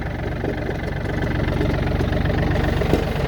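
A Yanmar F235 tractor engine running steadily at a low idle, with a close, even diesel chugging and a faint knock throughout and no talk.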